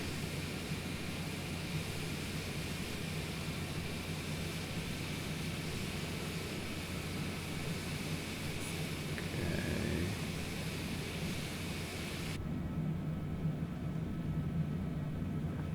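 Jet airliner engine noise from Microsoft Flight Simulator 2020, a Bombardier Challenger-type business jet (Longitude), a steady broadband roar that holds loud and constant, then drops sharply in its upper hiss near the end as the throttle comes back.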